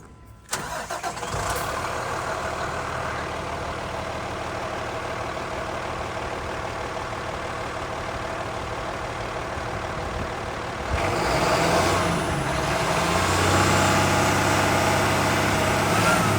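A 2013 Freightliner M2 IMT crane truck cranks and fires up near the microphone, then settles into a steady diesel idle that rises slightly in pitch and loudness toward the end.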